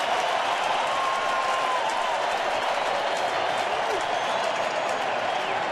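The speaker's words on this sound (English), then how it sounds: "the crowd giving him a standing ovation." A baseball stadium crowd gives a standing ovation after a playoff catch, with sustained, dense applause and cheering that stays even and distant throughout.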